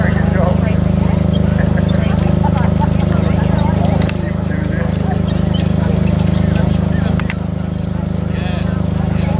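Heavy horses pull chain harrows at an outdoor working day: a steady, loud rumble of machinery and field noise with a busy, textured clatter over it, under continuous people's talk.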